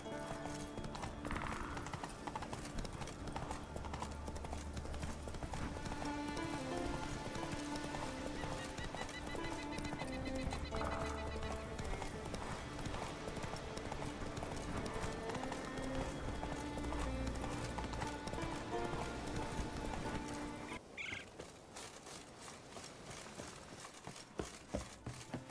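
Roach, the horse in The Witcher 3: Wild Hunt, gallops with steady rhythmic hoofbeats and neighs, over game music, before slowing to a halt near the end.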